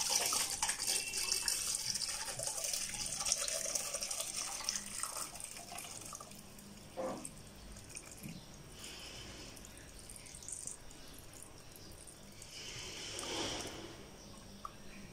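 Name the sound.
carob juice poured through a cloth strainer into a pot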